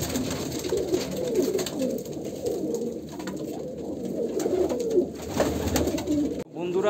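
Andhra Kalanka pigeons coo in a repeated, throaty rolling murmur, close and continuous, with some flapping and cage noise mixed in.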